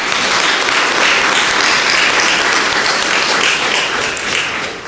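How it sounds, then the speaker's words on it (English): Loud, sustained applause from a church congregation fills the space, a dense wash of many hands clapping steadily throughout with no individual claps standing out. "We'll want to clap again for this one."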